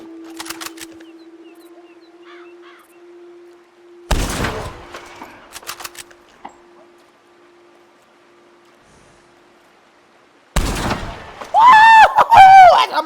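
Sharp gunshot blasts on a hunt for elk, two loud reports a few seconds apart, each ringing out broadly, with a hum underneath and a voice talking after the second shot.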